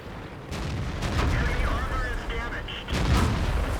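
Tank cannons fire shells in World of Tanks, with a T-54-style tank in the battle: heavy booming shots and distant artillery-like blasts punch through a rumbling battlefield, while someone talks over the action.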